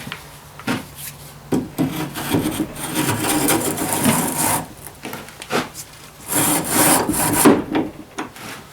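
Towel being pushed through a driveshaft tube, heard as close, loud scraping and rubbing in uneven bursts separated by short pauses.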